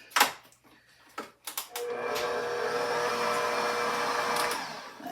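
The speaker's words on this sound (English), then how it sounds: "So, we're going to start mixing this again." An electric mixer whirs steadily through cookie butter pound cake batter, a close continuous motor hum with a few knocks and clatters beforehand.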